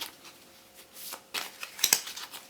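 Tarot cards riffling and slapping together in irregular bursts, fairly close and crisp, with soft rustles between them and no talking.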